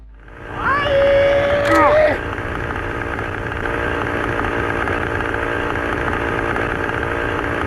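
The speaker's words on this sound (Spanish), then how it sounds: "Kristen saca una motosierra, preparándose para enfrentar a los Vaginers" Chainsaw revving in a TF2 animation, a sharp whining rev with rising pitch that bursts loudly for about a second, then settles into a steady droning idle that runs on to the end.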